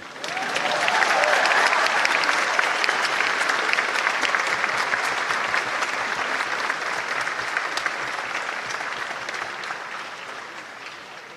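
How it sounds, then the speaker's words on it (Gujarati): Sustained applause from a large audience at a government job event in Gandhinagar, greeting Hasmukhbhai's announced name; steady, dense clapping swells quickly and runs for about eleven seconds before gradually tapering off. "હસમુખભાઈ નું નામ બોલાય એટલે બધાને કેવી તાળીઓ મળે"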